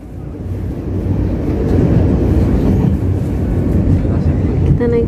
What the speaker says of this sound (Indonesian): Jadi kita naik kereta Man-Man dari Cungli ke Toyen.